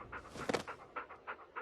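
A dog pants rapidly and close up, a quick rhythmic series of breathy huffs lasting a second or two, quiet and alone in an advertisement.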